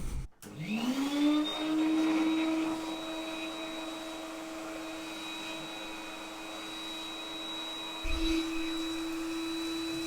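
Vacuum cleaner spins up with a rising whine and settles into a steady, fairly close tonal drone, briefly dipping and recovering near the end.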